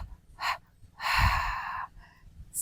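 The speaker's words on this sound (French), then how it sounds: "Inspire et souffle." During a workout breathing drill, a person takes sharp, audible breaths close to the mic, a short intake followed by a longer forceful breath, then a brief softer one.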